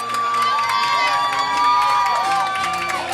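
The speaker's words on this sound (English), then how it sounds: "this Panther crowd comes alive on the second interception of the game by Matt Gimblett" A high school football crowd at a Holliston Panthers home game against Norwood erupts after an interception, loud sustained cheering and shouting with whoops rising in the middle, close and energetic.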